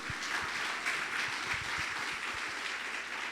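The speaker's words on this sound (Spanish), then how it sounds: "¿Alguien le da un aplauso al Señor ahora?" Applause from a church congregation during a worship service, a fairly quiet, steady wash of many hands clapping with a few sharper individual claps standing out.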